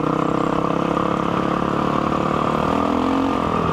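A dual sport motorcycle engine drones steadily at close range while riding on dirt, a constant mid-pitched hum with slight throttle changes and no talking.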